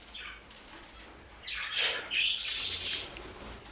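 A budgerigar chick takes off and flaps its wings in flight, giving soft fluttering bursts close by along with a few high chirps from birds in the room, with no one talking.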